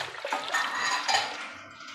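Water poured into a cooking pot while making tomato rice, a soft continuous splashing and trickling with faint clinks of metal, fairly quiet and close, no talking.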